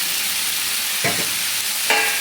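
Spices such as coriander powder, chilli powder and garam masala stirred and sautéed in a pan of broken-egg gravy, two short scraping, sizzling strokes over a quiet background hiss, with no talking.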